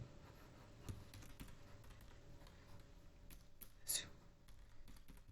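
Soft, irregular keystrokes on a computer keyboard, scattered taps at uneven intervals over a low background hum, fairly faint and close.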